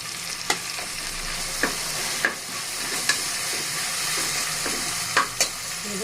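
Ginger garlic paste with coriander and mint sautéing in a pan for egg biryani, a steady close sizzle with sharp spoon scrapes and clinks breaking through at irregular intervals, no voices.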